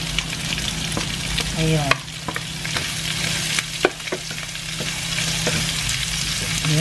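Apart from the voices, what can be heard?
ginger and garlic sautéing in a pan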